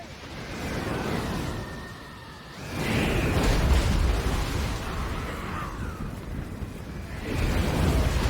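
Goblin Rock Lobber artillery in a Warhammer battle, heard as muffled distant booms and rumbling impacts with whooshing swells, rising and falling over several seconds at moderate volume without speech.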